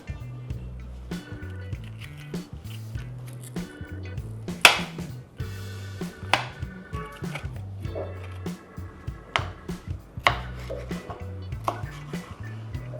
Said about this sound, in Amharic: ቀጣይ ስራችን የሚሆነው ፈረንጅ ቃሪያው መክተፍ ነው።